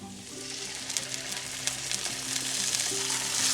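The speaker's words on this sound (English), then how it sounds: "And now let's add our sweet corn, guys." Canned sweet corn sizzles in a hot spiced pan, a steady close frying hiss that swells slightly as the kernels hit the oil, with faint scraping clicks from stirring and a low background hum.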